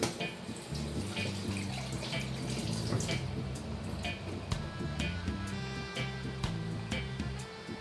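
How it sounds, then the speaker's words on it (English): Hands being washed under a running kitchen tap, a steady close stream of water with splashes and drips throughout. "at this point now I'm going to wash my hands"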